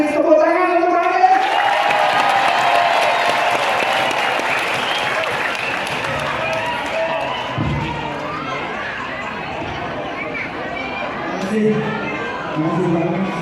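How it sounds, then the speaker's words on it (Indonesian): Applause for Anies Baswedan at the national leadership meeting of the Indonesian market traders' association IKAPPI, a large hall crowd clapping steadily and loudly with cheers and a voice speaking over it throughout, tapering slightly near the end. "tepuk tangan untuk Pak Anies"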